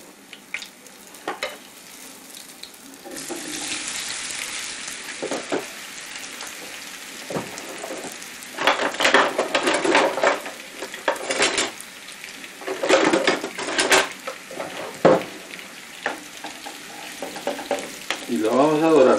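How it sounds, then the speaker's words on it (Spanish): Cassava pieces frying in a pan, starting quiet then bursting into loud crackling sizzle once added, with repeated clinks and scrapes of a utensil stirring against the pan. "vamos a dorar nuestras yucas"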